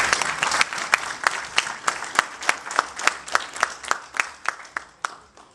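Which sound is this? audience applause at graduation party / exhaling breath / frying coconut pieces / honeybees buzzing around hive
audience applause at graduation party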